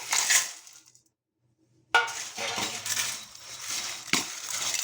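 Roasted Maggi noodles tipped into a paste for churmuri, a crunchy clattering pour followed by a brief silence, then a longer bout of close rustling, crushing and scraping sounds.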